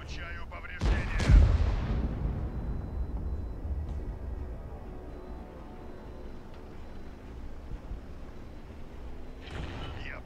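Artillery guns in an Order of War battle give one deep booming shot near the start, followed by a long low rumble and a fainter distant blast near the end, with speech over it.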